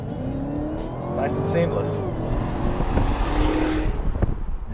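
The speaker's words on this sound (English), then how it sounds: "you don't get any wheel hop when you mash the gas pedal from a standstill" A 2016 Cadillac CTS-V accelerates hard from a standstill, its engine note rising steadily at close range beneath a voice speaking over it.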